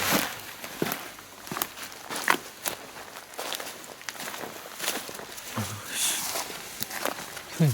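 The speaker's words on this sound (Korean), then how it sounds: "네, 발소리 났어요." Footsteps inside an abandoned house, a scattered series of soft thuds and scuffs at moderate distance, irregular in rhythm, with faint background rustling.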